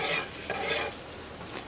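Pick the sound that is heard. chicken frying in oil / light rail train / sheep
chicken frying in oil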